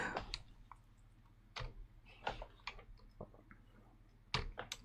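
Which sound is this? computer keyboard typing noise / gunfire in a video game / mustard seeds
computer keyboard typing noise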